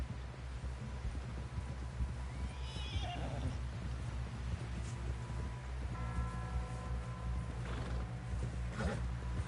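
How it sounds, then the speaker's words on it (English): In a video game, a horse whinnies and snorts over rapid galloping hoofbeats, with a steady rumbling background throughout. "Someone help John down off this horse"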